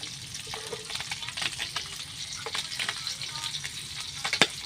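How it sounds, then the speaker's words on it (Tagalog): Food fries in a covered pan, giving a steady close sizzle and crackle with scattered pops and spits throughout, loud and continuous, with no clear talk over it. "Ito yung prito na kinakatakutan ng lahat."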